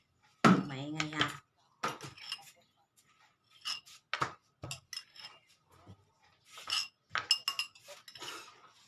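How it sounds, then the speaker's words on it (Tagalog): A spoon clinks against a glass while a Yakult and calamansi drink is stirred, giving sharp, close, irregular taps and rattles separated by brief silences. "Tapos haluin natin guys."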